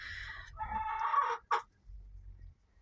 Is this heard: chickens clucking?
yes